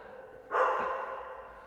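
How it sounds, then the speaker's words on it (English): A single dog bark, short and muffled, at a moderate distance, with no talking. "dogs are going off"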